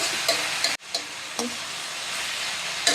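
Onions and rock salt sauté in a pan for a mutton curry, a steady broadband sizzle with a few soft scraping stirs and one brief break partway through, no voices.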